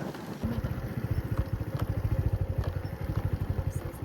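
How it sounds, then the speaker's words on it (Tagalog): Motorcycles pass by on a road, their engines pulsing in a rapid, uneven throb that stays loud and close for several seconds. "Ay dumaan na mga motor."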